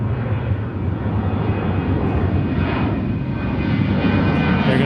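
A jet airliner on the Santa Ana flight roars loud and steady during takeoff at Seattle-Tacoma airport, a dense continuous engine rumble that holds without break, with no voices over it.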